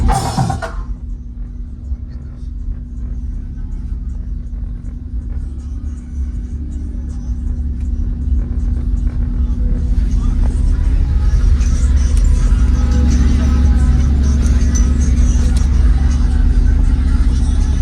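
Deep 808 bass booms from a 12-inch NVX subwoofer in a car trunk, a heavy low rumble that swells louder and steadier over the length of the clip.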